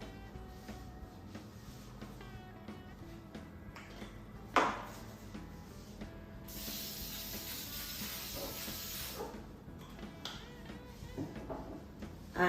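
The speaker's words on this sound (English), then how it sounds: "So all I'm going to do is spray this with some oil." After a brief clatter, oil is sprayed onto a baking tray with a sharp aerosol hiss lasting a couple of seconds, in an otherwise quiet room.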